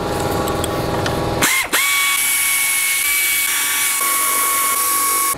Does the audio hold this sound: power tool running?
yes